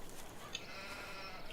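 Sheep in Farming Simulator 17 bleat faintly against a soft, steady background, with one brief call standing out near the middle.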